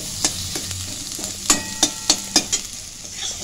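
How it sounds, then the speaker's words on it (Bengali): Ground turmeric, coriander, cumin and red chilli powder fry in a pan with a soft sizzle under a series of close, sharp spatula taps and scrapes against the metal. "এরপর মশলাটা আমি ভালো করে ভেজে নিচ্ছি।"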